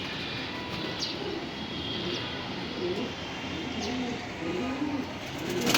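Racing pigeons coo at bath time, with low, repeated rolling coos close by over a steady background of splashing and ambient noise.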